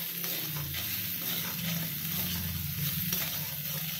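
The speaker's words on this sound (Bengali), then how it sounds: "এই দিয়ে একটু ভালো করে নাড়াচাড়া করে নেব" Ground coriander, cumin and turmeric with salt sizzle in hot oil in a pan while being stirred, a steady, dense frying hiss that is close and continuous with a soft scraping underneath.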